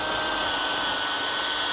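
A hammer drill whines steadily and loudly while boring clearance holes through pressure-treated lumber, a continuous close-up drone with no pauses across the short stretch.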